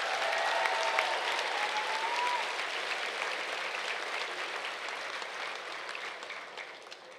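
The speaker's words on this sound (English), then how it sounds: "Let's give them a round of applause." At a high school graduation ceremony, an audience applauds in a steady, even wash of clapping that stays fairly distant and gradually fades toward the end.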